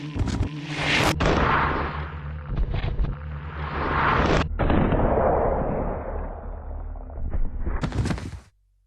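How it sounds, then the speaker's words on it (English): A Magnum pistol fires at a zombie's head in a video game, producing loud, booming shots with long ringing decays, several blasts in sequence before the sound cuts off abruptly. "I'm gonna take the Magnum and take it to the most standard enemy, which would be a zombie, and I'm gonna take it to his head for the explosive headshot"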